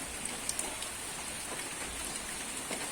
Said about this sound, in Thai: ฝนตกยาวติดต่อกันแบบนี้นะครับ